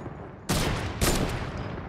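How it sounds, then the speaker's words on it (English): Two loud, booming sniper rifle shots ring out about half a second apart in a first-person shooter video game, each blast followed by a long, rumbling decay over steady background noise. "I'm gonna destroy the entire house with a sniper"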